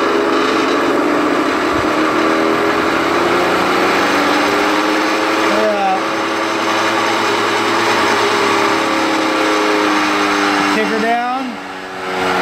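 A treadmill motor with a big counterweight spins steadily at about half throttle, a loud continuous whine and hum, then winds down near the end as the speed drops.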